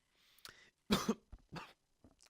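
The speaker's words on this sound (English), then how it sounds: "I coughed a little bit" A man coughs close to the microphone, a couple of sharp, raspy bursts with a throat clear, separated by brief silences.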